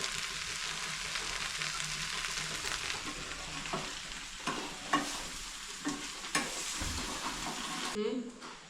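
Vegetables sizzle in a pan while they are stirred, a continuous soft frying hiss broken by a few spoon scrapes and knocks. It is quiet and close, and a brief clatter comes right at the end.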